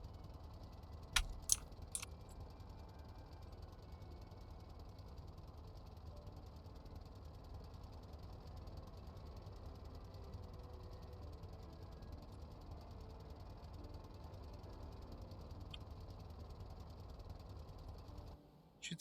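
A car engine idles steadily and quietly at close range, a low continuous hum with a few brief metallic clicks near the start and no voices.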